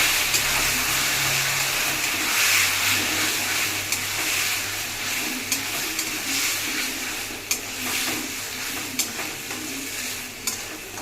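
Taro greens with a little grated coconut stirred in a pan on the stove, a soft continuous sizzle with scraping spoon strokes and occasional sharp taps against the pan, no talking.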